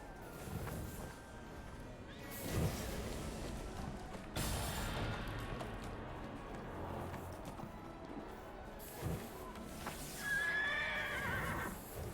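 A horse in the video game Neverwinter neighs and snorts with hoof clip-clops, mixed over steady game background ambience. A longer whinny rises near the end.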